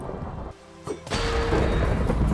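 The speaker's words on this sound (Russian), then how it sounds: "как вдруг я услышал звук грома." Thunder in Minecraft survival play: after a quieter stretch and a sharp crack, a loud rumbling roar swells and fills the rest of the moment.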